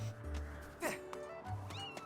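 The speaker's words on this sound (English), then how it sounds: "I think I hear a cat in the video game." A cat meows a few times inside the Zelda: Skyward Sword video game, short mewing calls that rise and fall over a low in-game background hum, with no talk over them.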